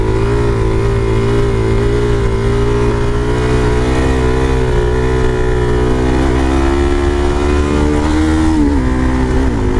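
A Suzuki DRZ supermoto motorcycle's engine runs steadily near the microphone with small rises in revs, a loud continuous drone with no voices.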